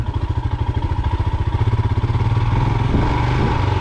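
A Royal Enfield Himalayan motorcycle rides off-road, its single-cylinder engine thumping in a rapid, close, pulsing rhythm that smooths into a steadier drone as it pulls on, with no talking.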